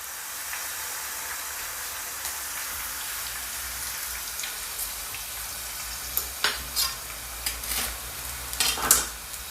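Chicken of the woods mushrooms fry in a pan, a steady crackling sizzle like rain that runs throughout, with a few louder pops and clicks from the pan near the end.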